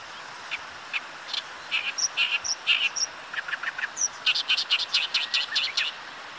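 Oriental reed warbler singing in a reedbed in rural Hyogo, Japan: a run of harsh, chattering, repeated chirps in bursts, fairly close and clear over a quiet background, with no voices.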